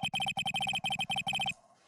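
Electronic telephone ringing from the Phoenix Wright: Ace Attorney – Trials and Tribulations video game: a loud, bright trilling ring in four quick bursts, each made of rapid warbling pulses, ending abruptly with a faint tail.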